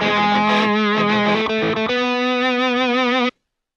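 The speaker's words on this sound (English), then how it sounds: "it looks like some other guitars come in there, so let's hear all three of them at the same time using this buttery sound" Three distorted electric guitar parts play together with a warm, smooth tone, a dense layered chordal passage that settles into a sustained held chord before cutting off abruptly.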